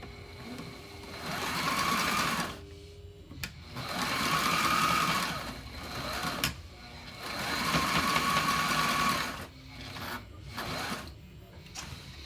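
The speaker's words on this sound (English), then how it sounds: "I'll reverse through that section here to keep the stitches from pulling out" A sewing machine stitches back and forth in reverse across a battery strap for FRC robots, running in three sustained whirring bursts with short gaps, close and steady.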